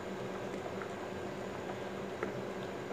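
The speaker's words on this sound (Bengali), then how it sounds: "এখন সাজনাগুলো সিদ্ধ হওয়া পর্যন্ত অপেক্ষা করব।" Moringa drumsticks simmering in a curry pot on medium heat, a soft, steady bubbling with faint pops, low and continuous with no voices.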